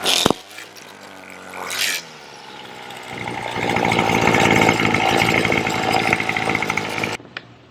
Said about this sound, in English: what you want to do is bump the bottom of your weed whacker, and that'll release more line out